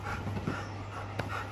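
Dogs waiting for dinner pant quickly and rhythmically close by, with soft whimpers mixed in, all fairly quiet over a constant low electrical hum.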